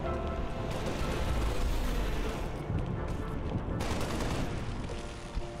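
Rapid bursts of gunfire and explosions in the video game Halo: Spartan Strike, dense and loud with overlapping shots rattling continuously, no talking.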